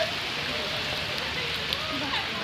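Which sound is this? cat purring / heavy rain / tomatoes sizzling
heavy rain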